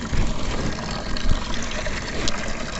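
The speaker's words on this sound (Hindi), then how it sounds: "बहुत ही अच्छे से रगड़ रगड़ के दाल धुल रही हैं।" Chana dal is rubbed and washed by hand in water, giving continuous close sloshing and splashing with a steady watery rush throughout.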